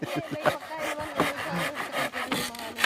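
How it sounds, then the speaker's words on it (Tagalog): A hand saw rasps back and forth through wood in steady, rhythmic strokes, close and fairly loud, with no talking. "yung lagari na nabili natin ni Tatay Okra"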